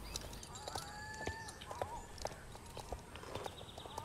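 A pony's hooves clip-clop in a rhythmic trot, quick repeated thuds close by, mixed with creaking tack and faint chatter from riders.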